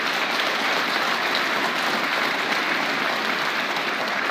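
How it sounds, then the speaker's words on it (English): An audience applauds at the dedication ceremony for Interstate 555, a dense, even wash of clapping that holds steady throughout at moderate volume. "Please give them a round of applause."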